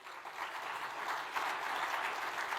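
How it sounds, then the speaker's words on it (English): Steady applause from a conference audience fills the whole stretch, a dense, even wash of clapping with no voices over it. "Let's give him a round of applause."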